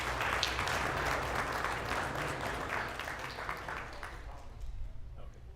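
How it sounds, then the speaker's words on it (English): A room full of people applauds after a project demonstration at a university showcase, with dense, steady clapping that is loud at first and thins slightly toward the end. A few voices murmur underneath. "First, let's do a round of applause."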